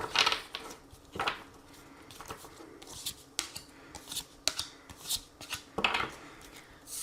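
Three tarot cards handled and drawn from a deck: soft papery shuffling, sliding and brushing sounds in irregular bursts, close and fairly quiet, with no voice.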